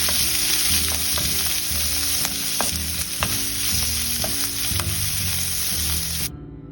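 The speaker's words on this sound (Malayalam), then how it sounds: "വലിയ ഉള്ളി, കറിവേപ്പില, പച്ചമുളക് പിന്നെ വറുത്തെടുക്കാം ലൈറ്റായിട്ട്." Onion, curry leaves and green chilli fry in oil for a chicken balls recipe, with a steady loud sizzle and the occasional clack of stirring. The sizzle runs continuously and drops off abruptly at the end.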